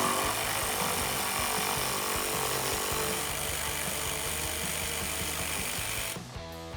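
A power tool whirs steadily up close while bolts come off a Jeep Wrangler JL fender, a continuous mechanical buzz that cuts off near the end.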